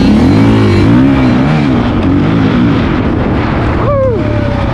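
A Yamaha YZ65 two-stroke dirt bike engine revs loudly and continuously, its pitch rising and falling in waves, with wind buffeting the microphone and a brief higher rising whine near the end.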